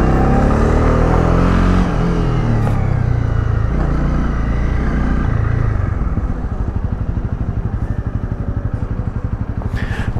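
A Honda CB250R motorcycle engine drones loudly on the road, steady then falling into a rhythmic, pulsing idle-like throb with heavy wind rumble, and no talking.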